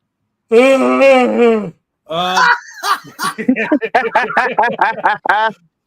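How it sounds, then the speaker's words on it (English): A long, drawn-out voiced yawn that falls in pitch, followed by a person speaking right after. "That was a yawn."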